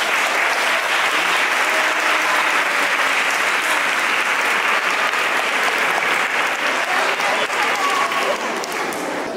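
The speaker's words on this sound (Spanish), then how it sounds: "Les damos un aplauso de entrada." A parish congregation in the church of San Pedro de Alcántara gives the Three Kings a loud, sustained welcoming applause, a dense wall of clapping that holds steady from start to finish with a faint crowd murmur underneath.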